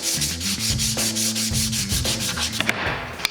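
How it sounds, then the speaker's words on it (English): Sandpaper rubbed back and forth on the wooden slide arms of a homemade stair tread gauge, a close, steady rhythmic scraping with regular strokes and no talk. "just a little bit of sanding fixed that problem"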